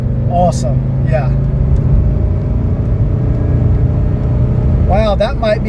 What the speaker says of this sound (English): That is one of the healthiest 300D engines I have ever driven.